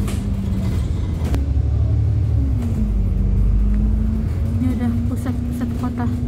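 Engine drone heard from aboard a city bus driving through Newcastle upon Tyne, a continuous low rumble with a shifting tone as it accelerates, under intermittent speech.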